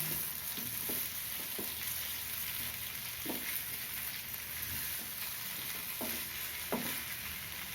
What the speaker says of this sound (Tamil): சேர்த்துட்டு நெருக்காக தான் கிளறணும் கிழங்கு உடையாமல் கிளறணும்